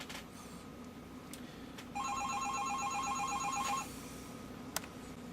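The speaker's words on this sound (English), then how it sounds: "yeah, I got a phone call" A cell phone rings indoors with a rapid, trilling electronic tone for about two seconds at moderate volume, with faint clicks before and after.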